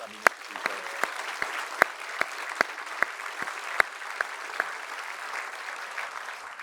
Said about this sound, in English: give them a big, nerve-settling round of applause